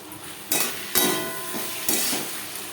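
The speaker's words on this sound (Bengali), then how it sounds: "পেঁয়াজ টমেটোর সাথে রসুন ও আদা কাঁচা লঙ্কা বাটা বেশ ভালো করে মিক্সড করে দেবো" Onion, tomato, garlic, ginger and green chilli paste fry in a pan under a steady sizzle, with three sharp scrapes and knocks of a spoon against the pan as it is stirred.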